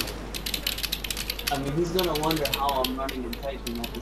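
A computer keyboard clatters in rapid, uneven keystrokes during a DayZ game session, and someone talks over the later part.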